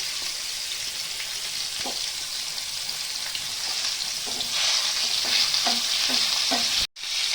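Whole tempering spices crackling in hot oil over fried pointed gourd for a Bengali mustard-style dish, a continuous close sizzle with soft stirring taps in the second half, then a sudden cut near the end; no talk.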